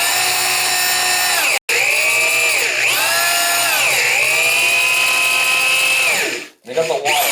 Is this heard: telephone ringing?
no